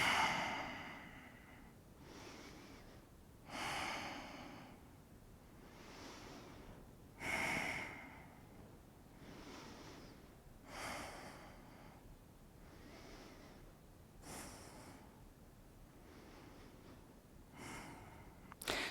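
Slow, audible breaths during a yoga flow, with soft inhales and exhales recurring every few seconds, some with a breathy sigh or snort-like edge, close and fairly quiet with no talk over them.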